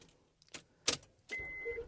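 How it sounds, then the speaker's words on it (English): A Honda Pilot fitted with a Start-X remote start gives a few clicks and a beep, then its engine starts and settles into a steady idle, heard close. "The 7th step is to start the car."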